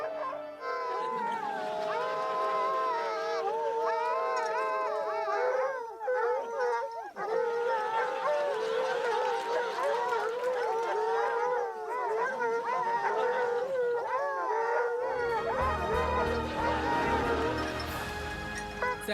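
Several dogs howling together in long, wavering overlapping tones like a choir, loud and close, with a short break before yips and a voice near the end.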